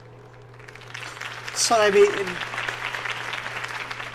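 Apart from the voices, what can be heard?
crowd applause at campaign speech, from video game Arkham Knight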